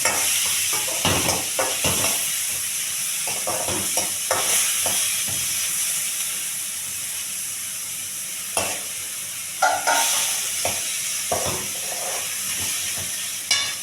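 Six chopped tomatoes fry in a pan with a steady close sizzle and hiss, broken by repeated scraping and stirring strokes of a spoon throughout.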